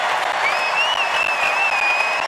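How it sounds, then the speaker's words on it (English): A sold-out crowd at a women's college basketball NCAA first-round game at the Kennel, Gonzaga against UC Irvine, roars and applauds loudly and continuously, with whistles cutting through. "Crowd's going nuts!"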